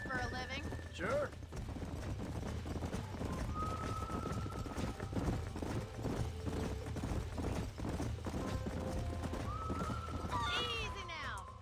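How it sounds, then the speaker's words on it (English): Horses in the video game Red Dead Redemption clip-clop with hooves and neigh now and then, set against steady game ambience while voices talk throughout. "These are fine horses."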